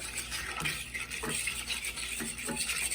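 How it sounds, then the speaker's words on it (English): Egg being mixed into butter and sugar in a bowl for skillet cornbread: soft, quiet scraping and squishing strokes repeat in an uneven rhythm, close by, with no talking. "And I'm just mixing the egg into the butter and sugar there."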